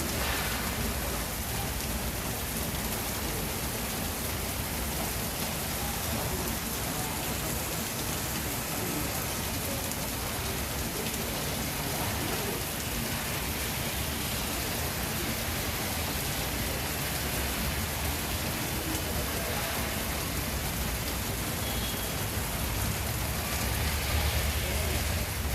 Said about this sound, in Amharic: ዝናብ ነው ከባድ ዝናብ ነው